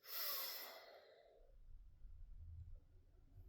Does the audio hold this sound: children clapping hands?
no